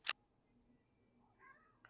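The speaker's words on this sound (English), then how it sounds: "The kitty is meowing at me." A cat gives a short, sharp, close meow at the start, then a softer, fainter meow-like call later in a quiet room.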